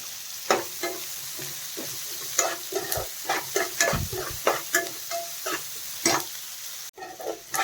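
Curry leaves crackle and sizzle in hot oil in a pan for a drumstick fry, with a series of spatula stirs and scrapes in an uneven rhythm, close up and without voices.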